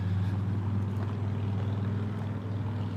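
A car engine on a street produces a steady, close, low rumbling drone that stays at an even level throughout, with no voices.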